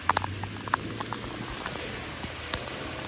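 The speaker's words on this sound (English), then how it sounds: "Fully raining." Heavy rain falling outdoors, a dense, steady patter with scattered louder drops hitting nearby surfaces, continuous and moderately loud with no voices.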